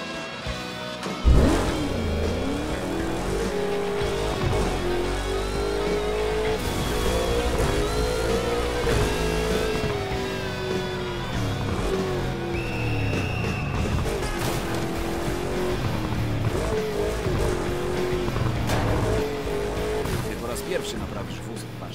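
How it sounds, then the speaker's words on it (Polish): A car engine in the racing game Burnout Paradise starts and revs loudly, its pitch climbing and dropping through sustained revving with a brief squeal, while a voice talks over it. "Przytrzymaj gaz, aby uruchomić silnik."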